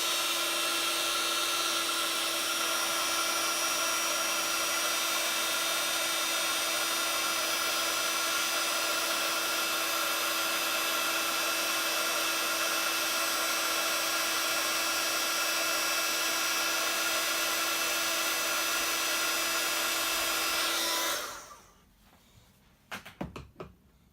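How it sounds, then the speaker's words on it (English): A heat tool blows hot air to set embossing on a stamped card, a steady loud whirring whine held for about twenty seconds before it cuts off abruptly, leaving faint handling noises. "So I'm going to bring in my heat tool, and I'm just going to heat set it."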